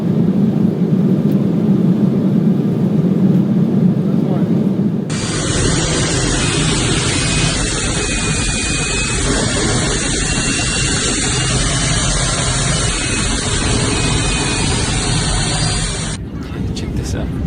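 Steady broadband roar of jet engines and airflow inside an airliner cabin in flight, loud and constant, shifting in tone partway through, with people talking over it.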